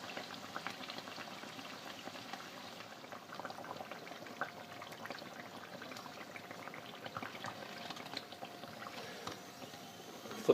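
Beignet dough fries in hot oil, a soft, busy crackle of small bubbles that stays steady and fairly faint throughout.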